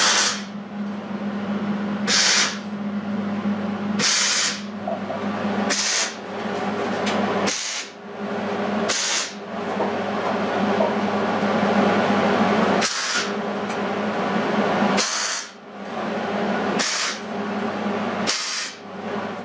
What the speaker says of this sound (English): John tack welded the assembly pieces together